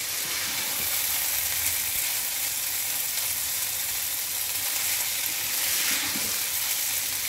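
Cooked rice being gently but thoroughly mixed in a pot, giving a steady, close hiss of sizzling with soft stirring texture throughout and no voices.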